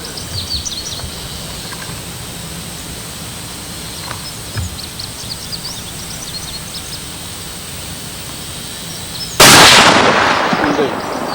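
A single loud gunshot at an outdoor shooting range cracks out sharply near the end, after a stretch of quiet ambient background.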